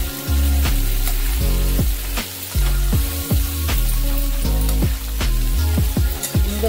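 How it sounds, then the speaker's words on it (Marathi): Chicken with vegetables frying in a pan, a loud close sizzle with rhythmic spatula knocks and scrapes recurring every half second or so, and no voices. "मस्त फ्राय करून घ्यायचं आहे त्याला"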